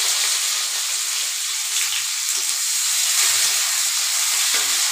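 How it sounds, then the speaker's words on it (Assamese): Onions dropped into hot oil for a Bengali-style fish curry, frying with a steady, loud hiss and sizzle that holds evenly throughout, close up. "এতিয়া মই ইয়াতে পিঁয়াজ দিম।"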